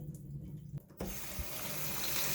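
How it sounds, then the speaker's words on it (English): Cooked food rinsed in a strainer under a running kitchen tap: a brief clatter, then a steady, close rush of water pouring through. "So now we're going to take it, rinse it. Okay, so pour it into the strainer."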